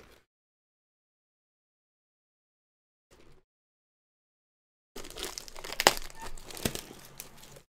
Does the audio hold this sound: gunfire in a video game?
no